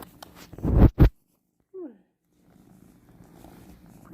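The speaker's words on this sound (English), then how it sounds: "It's the shop kitty." A shop cat purrs softly and low after a couple of loud close vocal bursts and a short rising chirp, the faint rumbling continuing to the end.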